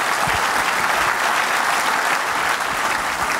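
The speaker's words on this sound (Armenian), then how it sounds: "ծափարենք Թադեին" A studio audience on a sports talk show applauds basketball player Tade, a steady, dense patter of many hands clapping at an even level with no voices over it.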